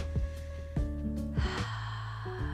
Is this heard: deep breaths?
yes